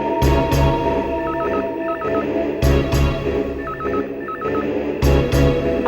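A telephone rings in a repeating electronic pattern, with short warbling tone bursts and rhythmic thumps recurring about every two and a half seconds, loud and close.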